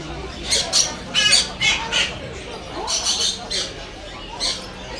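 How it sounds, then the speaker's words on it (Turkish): Parrots squawk in loud, repeated bursts at an animal spot in old Istanbul, with bird calls coming in irregular clusters, some close and some farther off, over a busy background. "papağanlar var, kuşlar var."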